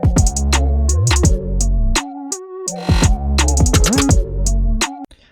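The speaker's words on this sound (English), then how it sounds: "without my layering, the snare sounds like this." A plain, unlayered snare hits within a produced beat. It sits among gliding bass notes and bright hi-hat ticks in a loud, punchy groove that stops abruptly near the end.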